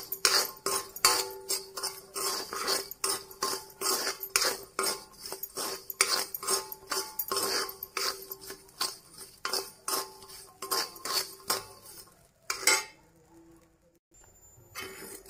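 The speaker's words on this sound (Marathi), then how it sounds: "छान असं भाजून घेते शेंगाचे बी, खारे शेंगदाणे" Peanuts roasting in hot salt in a pan, stirred with quick repeated metallic scraping and rattling strokes in a fast steady rhythm, close and fairly loud, stopping near the end into near silence with a last clink.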